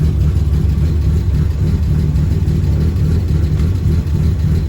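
A BMW E36 engine runs steadily up close, a loud, continuous low rumble with a dense throb and no pauses or voices over it.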